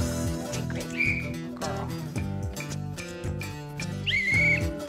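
Two short, clear dog-training whistle blasts, about three seconds apart, ring out over a steady tonal background of music.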